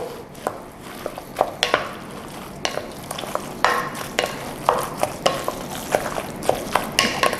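Chilies being stirred in a pan while cooking pepes, a spoon scraping and clacking in repeated uneven strokes over a light frying hiss, close and fairly loud, with no talking.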